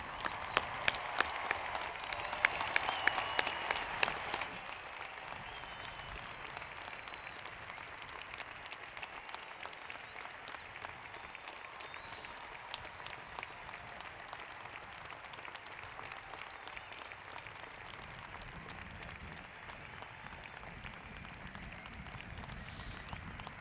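A large crowd at a university commencement gives sustained applause. The dense clapping is loudest at first, then settles into a steady, fainter patter that lasts over twenty seconds.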